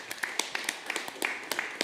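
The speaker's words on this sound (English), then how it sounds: "Bit of round of applause, I think," Quiet, scattered clapping from a small audience at a reflective reading gathering, a soft run of evenly spaced hand claps heard at a modest distance with no talk over it.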